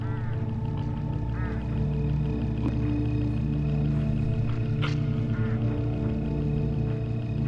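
A swarm of hooded crows in the video game Hitchhiker gives a few harsh, scattered calls over a dense, steady droning background.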